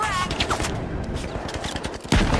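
Model 1887 lever-action shotgun firing in a video game, heard as a dense, continuous run of gunfire with one heavy, loud blast near the end; a voice speaks briefly at the start.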